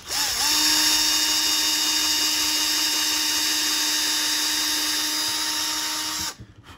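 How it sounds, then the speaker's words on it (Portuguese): A high-pitched electric drill whines steadily for several seconds at close range while drilling holes in a broomstick, then stops abruptly. "Vai com a tua... parafusadeira, com a tua furadeira aí, faça dois furinhos"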